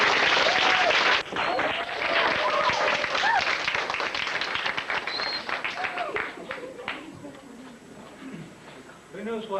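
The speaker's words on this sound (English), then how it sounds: "I want you to give a big round of applause." Middle school audience at an Apollo presentation claps in a dense burst of applause that gradually thins and fades, with voices talking over it.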